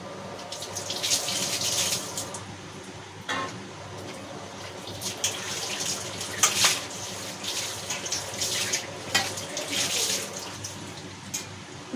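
Water runs from a tap and splashes, with sharp clinks and clatters of dishes being washed at intervals.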